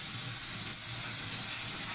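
A paste of ground onion, garlic and green chili frying in a pan, giving a loud, continuous hissing sizzle close by with no talk over it.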